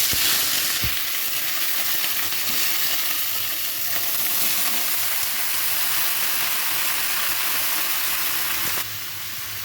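Whole spices for char phoron tempering, made without mustard seeds, sizzle in hot oil with a steady loud frying hiss that continues throughout, with a small clatter near the start.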